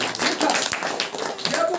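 A church congregation clapping hands in rapid, steady rhythm at a Saturday worship meeting, with a preacher's voice mixed in.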